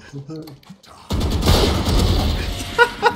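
Gunshots in Valorant, a sudden loud burst of fire followed by a sustained booming volley and a couple of sharp later cracks, with a voice heard just before.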